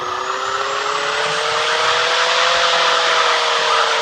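Cars in the driving simulator City Car Driving give a steady engine drone with a rising pitch as they accelerate, continuous and loud for the whole stretch with no talking.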